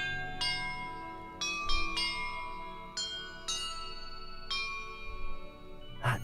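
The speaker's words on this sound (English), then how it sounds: "The map contains clues about the order I'm supposed to ring the bells in." Bells rung in a sequence puzzle in the Hogwarts Legacy video game chime one after another, about seven bright metallic strikes with lingering decay and a soft thump or two between, no talk.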